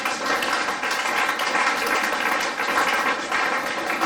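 A church congregation at a Congolese worship service applauds in a dense, sustained wash of clapping that stays loud and even throughout.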